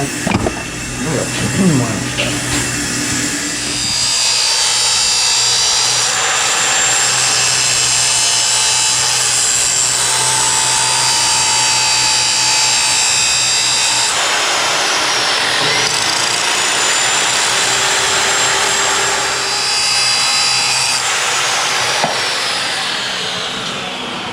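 Power grinder running on a car's broken wheel stud, a steady whining buzz that holds nearly nonstop and shifts pitch as it bites into the metal, with people talking over it.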